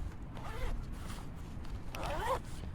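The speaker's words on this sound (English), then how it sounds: "a venting zip on each side." Zipper on the side vent of a pair of KLIM motorcycle riding pants being pulled open or closed, two distinct rasping zips at close range, the second slightly longer, over faint background noise.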